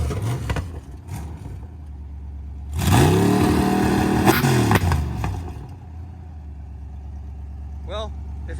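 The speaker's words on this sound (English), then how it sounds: "I just smoked the tires." A 1946 Chevy pro street pickup with a supercharged 350 small-block V8 roars loudly as it smokes its tires, a sustained burst of high revving engine noise in the middle, idling rumble before and after, with people talking over it.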